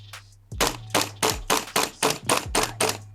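A Tokyo Marui MWS gas airsoft rifle running on Jag race gas fires one faint shot, then eight sharp, evenly spaced shots about a third of a second apart, each with a crisp snap and a short hiss of gas.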